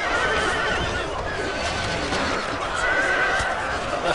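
Horses whinny and neigh amid the dense, noisy clamor of a samurai battle in Shogun 2 Total War, the cries rising above continuous fighting din.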